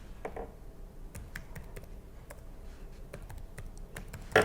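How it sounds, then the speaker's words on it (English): Someone types a Metasploit console command on a computer keyboard: a steady run of quick, irregular key clicks, fairly faint and close, with no talking. "by typing MSF console, I am opening the Metasploit framework"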